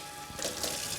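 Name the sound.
water running from a tap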